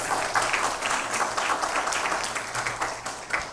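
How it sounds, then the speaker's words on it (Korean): Congregation applauding the accompanists during a university chapel service in a church setting, steady dense clapping from many hands filling the space, fairly close and continuous for the whole stretch. "우리 반주해 주시는 분들에게 감사의 박수하겠습니다."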